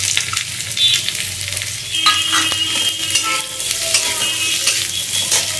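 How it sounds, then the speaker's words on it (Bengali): Bitter gourd rings fry in hot mustard oil with a steady, close sizzle and bubbling hiss, broken by occasional spatula scrapes and brief spatters, with no voices. "তেলটা মোটামুটি তেতে গেছে, আমি এবার এই উচ্ছেগুলোকে ভেজে নেব।"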